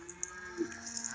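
Cattle low and moo at a farm on a rainy day, a couple of short calls heard at moderate distance over a faint steady background hum.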